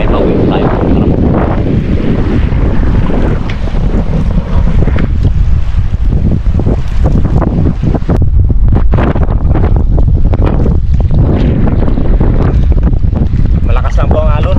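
Heavy rumbling water and wind buffeting a boat, with waves slapping the hull in a constant, loud roar.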